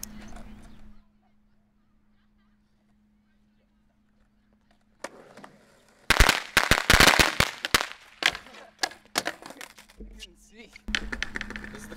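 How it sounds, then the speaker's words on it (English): A firecracker tray bomb goes off in a fast, loud, crackling burst of many close pops that tails into scattered bangs, with faint talk around it. "This is the firecracker tray bomb."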